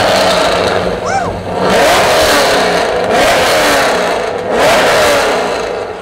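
Rowdy wide-body Chevrolet Corvette C6 revving loudly nearby, with three surging bursts of engine roar and a brief whistling whine, voices talking over it.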